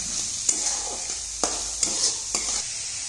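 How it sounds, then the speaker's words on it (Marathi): Finely chopped onion and curry leaves frying in a pan, with a constant bright sizzle and a few sharp scrapes and taps of a spatula stirring at irregular intervals, up close. "आता जोपर्यंत आपला कांदा तिकडे फ्राय होतोय ना"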